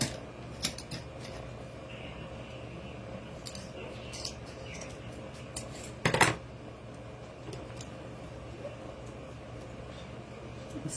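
Scissors cut craft material for a homemade patriotic sign, faint sparse snips scattered over a quiet room hum with one louder crisp cut midway and no talking.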